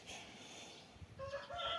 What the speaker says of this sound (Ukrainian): На півнів не звертайте уваги.